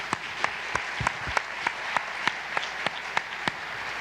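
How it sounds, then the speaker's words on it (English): Applause at a Leadership Louisville luncheon, fairly faint and spread out, with a steady patter of claps and a few sharper individual claps standing out at regular intervals. "Let's give him a big round of applause"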